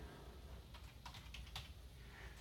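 Keys clatter on a computer keyboard as a serial message is typed, a short faint burst of quick taps clustered near the middle, with no voices.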